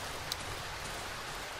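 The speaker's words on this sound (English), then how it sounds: "This rain is so loud." Steady, dense rain hisses down in the Darkwood video game, a constant wash of falling water heard alone at a low, even level with no voices.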